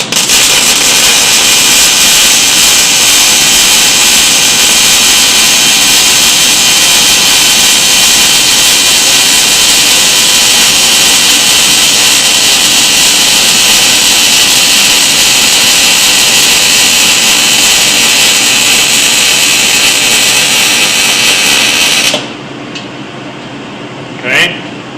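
MIG wire welder laying a bead with small circles and zigzags: a loud, steady crackling buzz runs continuously for about 22 seconds, then cuts off abruptly, leaving quiet room noise.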